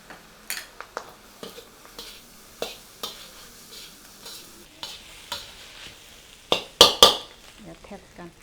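Ingredients for a Thai dish stirred and scraped in a pan with soy sauce and raw sugar, giving irregular close scraping strokes and faint sizzling, louder clatters near the end.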